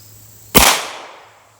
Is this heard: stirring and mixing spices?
no